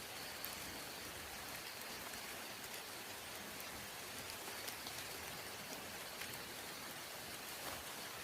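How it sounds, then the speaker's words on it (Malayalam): Steady rain falls outdoors at a cooking spot where a charcoal fire is being readied for pit-roasted chicken; a continuous, even hiss of drops on surfaces carries through the whole stretch with no speech. "പിന്നെ മഴ."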